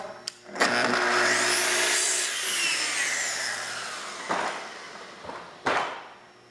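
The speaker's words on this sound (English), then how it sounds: "now we're going to take your track saw" A track saw nicks plywood held against shop-made parallel guides, a loud, steady whining cut of about four seconds that rises and fades, followed by a few sharp knocks and clatters nearby.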